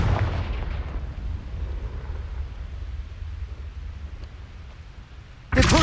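A Confringo fire spell in Hogwarts Legacy goes off as a deep, booming blast that rumbles and fades over several seconds. A second loud burst hits abruptly right at the end.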